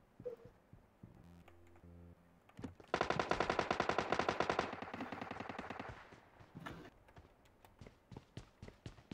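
Rapid video-game gunfire, including bursts from a shotgun and other weapons, rattling in a loud dense volley mid-clip with scattered single shots before and after, all without talk.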